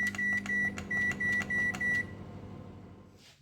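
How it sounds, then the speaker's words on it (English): A microwave oven running on high power while cooking a chocolate cake in a bowl, a steady hum with a string of regular beeps that stop as the hum fades out. "We will put it in the microwave in this bowl itself and we will cook it for just 3 minutes on high"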